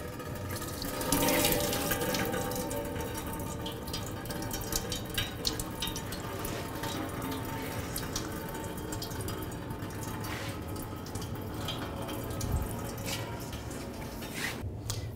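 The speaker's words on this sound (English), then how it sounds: "See coolant start to come out of there." Engine coolant pours and splashes steadily out of a 2010-2017 Chevrolet Equinox during a water pump replacement, a continuous close watery rush like a running tap, with no talking.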